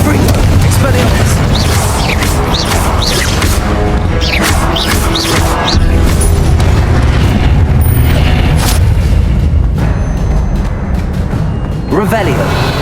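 Spell explosions in the video game Hogwarts Legacy, loud booms and crashing blasts that pile up continuously in a battle while a voice shouts incantations over them.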